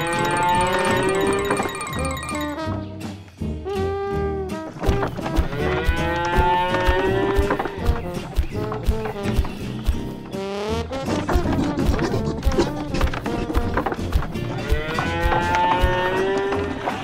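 Cattle moo loudly and repeatedly over a busy backdrop of other farm animal sounds in a toy farm diorama scene, the long drawn-out calls overlapping one after another with no speech.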